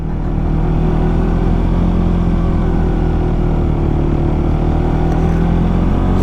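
A motorcycle rolls along an icy road, its engine droning at a steady, moderate pitch up close, mixed with constant wind and road rush and no change in pace.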